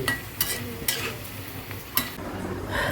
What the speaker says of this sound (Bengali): মা একটু পাঁপড় ভেজে দাও